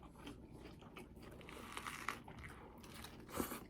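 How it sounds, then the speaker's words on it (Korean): Close, quiet chewing of a chicken sundae salad, soft crunches and moist bites repeating at an uneven pace. "치킨순대 샐러드 해 먹을 때 맛있네."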